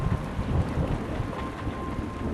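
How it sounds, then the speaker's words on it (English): A thunderstorm at an airbase: steady heavy rain with deep rolling rumbles of thunder beneath it, fairly quiet and continuous, with no voices. "back at the airbase, a thunderstorm has struck."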